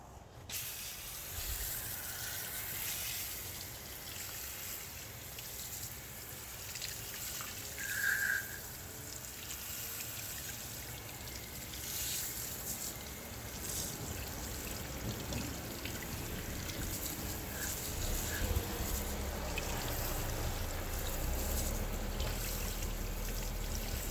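Water sprays steadily onto a car wheel held on a detailing stand, a continuous hissing, splashing rinse close by that runs without a break from start to finish.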